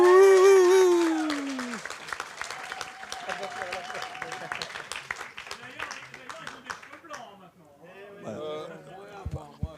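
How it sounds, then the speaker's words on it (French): Audience applause at a literary gathering: a voice rises and fades at the start, then scattered clapping builds into a rippling round, thinning near the end as talk returns. "Vous pouvez applaudissez tous"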